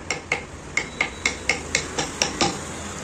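A hammer strikes a chisel to carve a wheat-grain design into wood by hand, about a dozen sharp, evenly spaced taps sounding close and clear with no talking.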